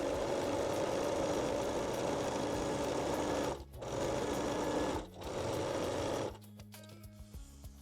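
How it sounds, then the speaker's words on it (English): Sewing machine stitches fold-over elastic along the underarm of a bralette, a steady close whirring run broken by two brief pauses, then stopping, leaving quiet room noise. "Fold the fold over elastic and stitch the underarm again."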